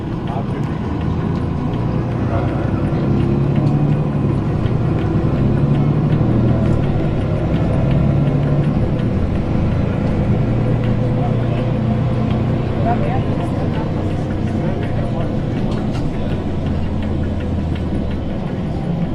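A vehicle rolls along the driveway beneath airport aero bridges at Austin Bergstrom International, giving a steady, continuous rumble of engine and road noise with a broad hum throughout and a voice talking over it.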